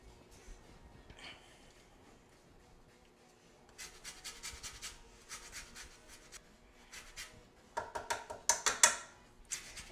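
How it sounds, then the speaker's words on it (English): An orange and a lime are zested with a handheld zester, giving short bursts of dry scraping strokes, faint at first and growing louder and quicker toward the end, with no talk. "I'm gonna do the zest of one orange, the zest of one lime"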